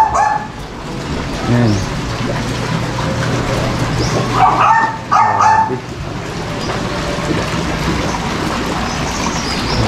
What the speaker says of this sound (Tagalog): Daming aso pala dito.